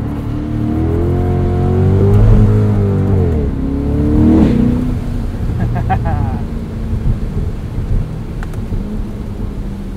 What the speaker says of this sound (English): this is how you Corvette in the wintertime. Top down, sideways in the snow.